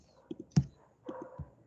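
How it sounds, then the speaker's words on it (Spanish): Computer mouse clicking close by in short, sharp pairs, a few crisp clicks in quick succession with faint breathy sounds between them. "Doble clic."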